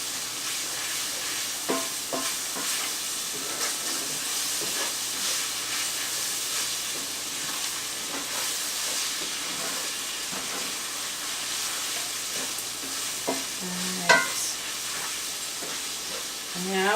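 A zucchini boat filling of meat and tomato paste sizzles steadily in a pan while being stirred, with occasional scraping clinks of the utensil over the constant close frying hiss.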